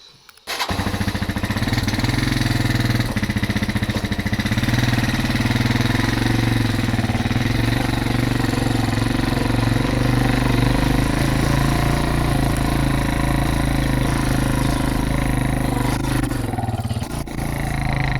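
A motorcycle engine starts up and runs steadily in a rural village, a loud close rumble that keeps a constant throbbing idle before dropping off near the end.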